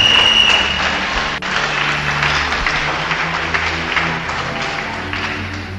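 A church congregation at a French-language service applauds steadily, a dense wash of clapping hands that holds for several seconds and fades slightly toward the end, with faint voices under it.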